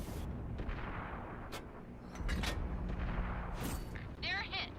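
Tank cannon fire in the video game World of Tanks, with heavy booms and sharp blasts rising over a rumbling battlefield while a person talks over the action.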